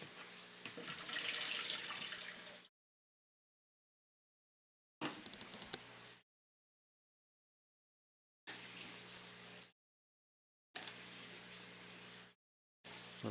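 Water running from a hose during an aquarium water change, coming in four separate gushing bursts of steady hiss, each stopping abruptly into silence, with a brief start of a fifth at the end.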